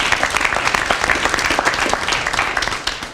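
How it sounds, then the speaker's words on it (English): An audience applauds donors at a Teach For America donation event, a full, lively round of many hands clapping with some louder individual claps standing out. "Can we give them another round of applause?"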